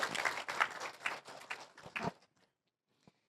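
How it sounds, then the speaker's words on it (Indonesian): Short burst of clapping from a small indoor audience, brisk and moderately close for about two seconds, then dying away into near silence with a couple of faint taps. "tepuk tangan buat Mas Hari"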